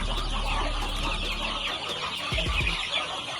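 Brahma chickens on a local poultry farm cluck and squawk continuously in a dense flock, with a low steady hum of farm noise underneath and a few louder, nearer calls standing out.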